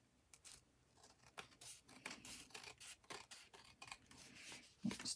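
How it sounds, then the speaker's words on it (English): Scissors snip and trim a strip of book-page paper, a fast run of close, crisp cutting strokes with faint rubbing of paper between them, heard alone without any voice. "And then I'm just going to trim this bottom."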